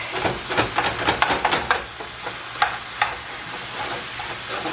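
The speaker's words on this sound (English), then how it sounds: "And we brown all of this." Ground beef and ground pork browning in a pan for spaghetti sauce, with a low sizzle under repeated scraping stirs from a utensil, no talking.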